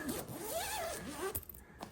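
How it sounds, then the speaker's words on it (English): A zipper is pulled open along a bean bag chair's fabric cover in a long continuous rasping run, close and clear, ending with a few short tugs and no talking. "You can unzip it, wash the cover, slip it back on."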